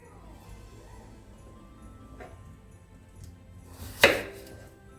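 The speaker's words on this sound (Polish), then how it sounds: "Jeszcze pokroję jabłka, wydrążę gniazda nasienne i dodam jeszcze jabłek." A knife cuts apples on a board, a few quiet cuts followed by one sharp, loud chop near the end, with faint background noise in a home kitchen where beetroot soup is being made.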